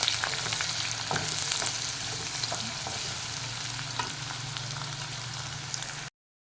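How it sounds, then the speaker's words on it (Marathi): Chopped onion sautés in hot oil in a pan, a steady close sizzle with scattered crackles and the occasional scrape of stirring, continuous throughout with no voices. "आपल्याला कांदा खूप परतून नाही घ्यायचा आहे त्याचा रंग थोडासा बदलेपर्यंत आपण तो परतून घेऊया"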